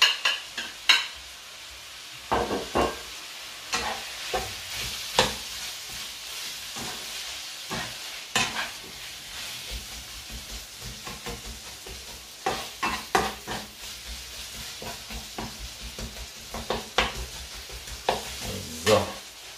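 Meat and broad beans fry and sizzle in a pan on a stovetop, with a steady hiss broken by repeated scraping and stirring clatters throughout, close and fairly loud.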